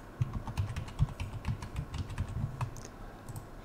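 A password is typed on a computer keyboard while setting up a Hikvision DVR, producing a steady run of close, crisp key clicks with a few heavier taps and no talking.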